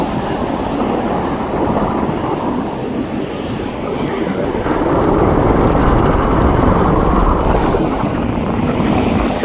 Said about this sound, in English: there's 3 locomotives right down there